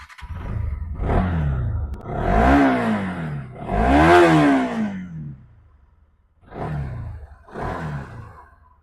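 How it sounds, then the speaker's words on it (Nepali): A white 2022 Bajaj Pulsar NS200 ABS motorcycle revs in several loud, close throttle bursts, its engine roaring up and dropping back between blips, with a short lull before the last two revs. "यो बाइकको साउन्ड सुन्नु है, ओरिजिनल साउन्ड एकदम बवाल फ्रेस साउन्ड"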